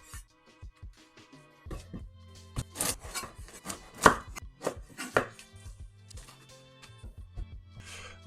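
A knife cutting the crusts off a loaf of Pullman bread on a board, a series of crisp irregular sawing strokes and soft thuds, close and distinct against quiet surroundings.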